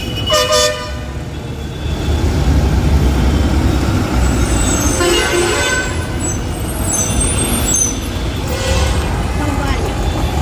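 A GSRTC bus pulls out of the Rajkot bus stand amid steady engine rumble and traffic noise, with horn toots and hissing air brakes over the busy station hubbub.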